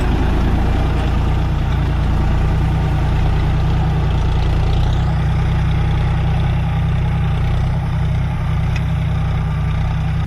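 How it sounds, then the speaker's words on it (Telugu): A tractor engine strains as it drags a cultivator through a rice field's soil, a loud, continuous low diesel drone recorded up close that never lets up for the whole stretch. "ఇక మళ్ళీ కల్టివేటర్ కొట్టేసరికి కొంచెం ట్రాక్టర్ కష్టం అవుతుంది, వెళ్తలేదు."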